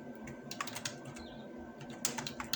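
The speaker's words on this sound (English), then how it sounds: "But if we start typing" Quiet computer keyboard typing comes in short irregular bursts of close key clicks, with a faint steady hum underneath and no talking.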